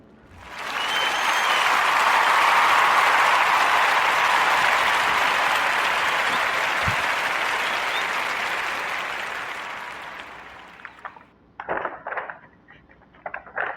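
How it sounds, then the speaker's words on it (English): A podcast studio audience gives a round of applause for a guest and her tea product, a dense steady clapping that swells, holds for about ten seconds, then thins out into a few scattered claps and small knocks. "join me in giving up the warmest Narrative podcast round of applause for Miss Chantrell Edwards"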